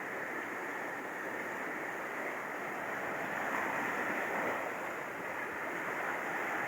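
Big storm surge waves pound the shore of a coastal area during a typhoon, a continuous loud roar of surf with wind noise blowing across the microphone and no voices.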